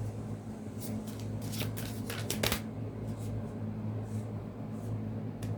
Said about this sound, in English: we're going to shuffle until we get a card